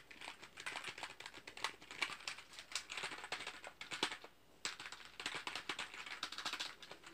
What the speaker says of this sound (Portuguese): Esse é o teclado então, rapaziada.